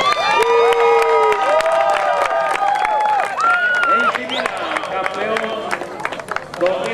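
A crowd at an Atlantic Soccer League final cheers and claps loudly for AC Milan as the champions are introduced, with shouts and whistles over dense applause and an announcer's voice over a loudspeaker.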